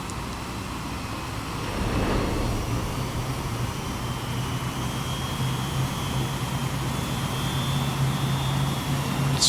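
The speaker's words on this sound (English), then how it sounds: "It's just an average carrier transport helicopter thing." A carrier transport helicopter in Xenoblade Chronicles X gives off a steady, whining engine roar that rises after a couple of seconds and holds, with a thin high whine running through it and no voices.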